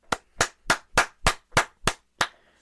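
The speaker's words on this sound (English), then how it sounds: "Clap it up." Eight crisp hand claps ring out one after another in a steady, fairly quick rhythm, close and loud against silence, the last one trailing off with a faint tail.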